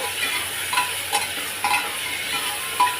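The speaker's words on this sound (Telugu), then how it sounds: "టమాటా కూడా వేసాక ఒకసారి కలుపుకొని" Gongura mutton curry with tomatoes being stirred in a pan, giving a steady sizzle with soft scraping strokes at a slow, irregular rhythm and no talk.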